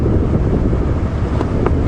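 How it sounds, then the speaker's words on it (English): Strong wind on a morning safari drive buffets the microphone with a loud, steady low roar, gusting slightly throughout, with no voices. "It's quite windy here"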